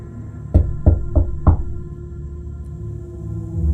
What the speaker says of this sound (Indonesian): terdengar suara mengetuk pintu.